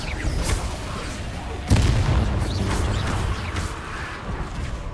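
A Confringo spell explosion in a video game: a sudden loud boom bursts over busy game ambience and music, then fades into a rumbling tail.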